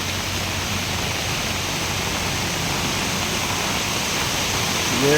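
Floodwater rushing down from a hill at Vazhukkumpara, near Peechi, fills the air with a constant, dense roar, steady and loud with no pauses or voices.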